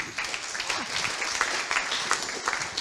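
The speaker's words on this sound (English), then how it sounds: "Round of applause." Clapping from a conference audience at a network operators' meeting after a talk, a brief steady patter of applause with faint voices mixed in.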